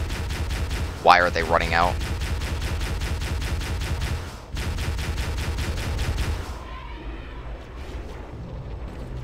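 Dense, continuous gunfire in a Halo game during the Assault on the Control Room mission, with turrets and covering fire rattling steadily throughout; a voice speaks briefly over it, then the shooting thins out toward the end.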